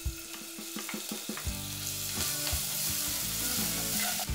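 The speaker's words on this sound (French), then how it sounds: "Dans une casserole à feu moyen, un filet d'huile, y faire revenir quelques secondes l'ail" Garlic briefly fries in a drizzle of oil in a saucepan over medium heat for a satay noodle soup, a bright, close sizzle that swells steadily, with a few knocks of a utensil near the start.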